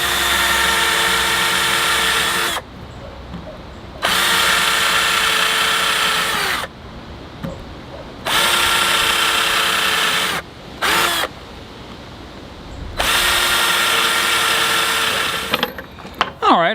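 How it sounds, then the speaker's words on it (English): A power drill drives screws into wooden boards for a bonsai box, loud whirring bursts of a few seconds each separated by brief pauses, five or so runs in a row. "Alright, I'll start screwing the bottom in."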